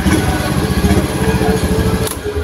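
A Honda Vario 110 LED scooter engine runs steadily in a workshop, a continuous close, fairly loud low throb with no talk over it.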